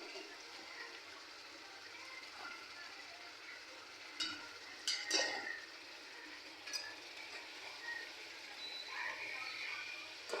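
Vegetables sautéing in a pan, a low steady sizzle with a few sharp spatula clinks and scrapes, close by, with quiet talk faintly underneath.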